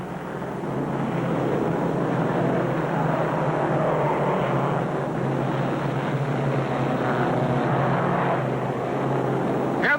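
1952 NASCAR modified race cars on the Daytona Beach road course, a distant continuous engine drone swelling and holding as the pack rounds the turn, with no speech.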